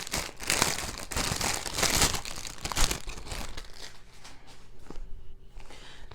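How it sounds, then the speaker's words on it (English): Plastic packaging crinkles and rustles up close as it is handled and pulled off an item, with dense crackling at first that grows sparser and quieter toward the end. "Let me get it out of the plastic."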